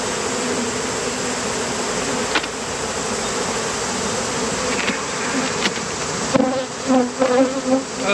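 Honeybees buzzing around an opened beehive as it is worked with smoke, a loud, dense, continuous drone close to the listener, with a few sharper buzzes passing near the end.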